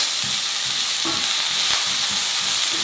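Onions sautéing in a pan with garlic for pork ribs binagoongan, a steady broadband sizzle with soft scraping stirs every half second or so, close and loud, no voices.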